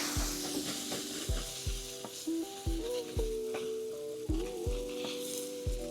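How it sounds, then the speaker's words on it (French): Cold water hits the hot grate of a charcoal barbecue with a rotisserie, giving a steady close sizzling hiss broken by a series of dull knocks. "Et direct la saisir avec de l'eau froide pour faire un choc thermique."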